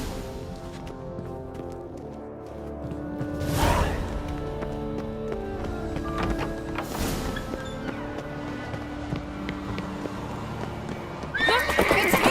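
A horse whinnies loudly twice and again near the end, over steady clip-clopping hooves and a busy soundscape in the video game The Witcher 3.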